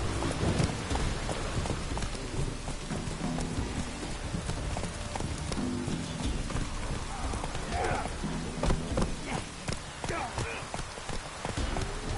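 Horse Roach galloping in The Witcher 3 video game, steady hoofbeats amid rain and ambient noise, with people talking over it.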